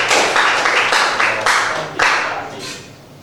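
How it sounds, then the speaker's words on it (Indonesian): A classroom group claps in a few short bursts, moderately loud and close, fading away over a few seconds. "Beri tepuk tangan untuk nomor ini."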